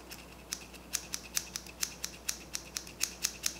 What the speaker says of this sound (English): I'm gonna cut right there. And cut into it again.